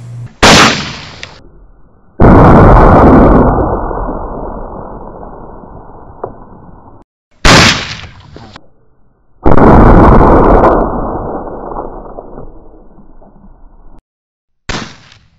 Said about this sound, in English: Now let's look at those bottle explosions in slow motion